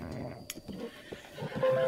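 A horse in the video game Zelda: Breath of the Wild whinnies in a short, shaky call, heard clearly over quiet game background sounds and faint hoof movement.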